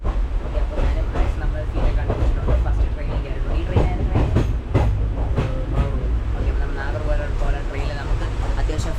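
Loud rumbling of a train at a station with rhythmic clicking of wheels on rails, voices murmuring underneath throughout.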